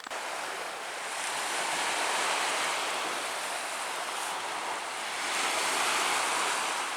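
Waves lap along a lakeshore beneath cliffs, a steady rolling wash of surf that swells and eases softly, mixed with some wind, with no voices.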